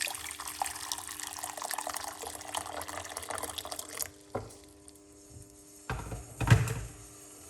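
Hot water pours from a tap-like stream into a medium pot on a stove for parsley and lemon tea, a steady faint splash for several seconds, then stopping, followed by a few soft clunks and movements.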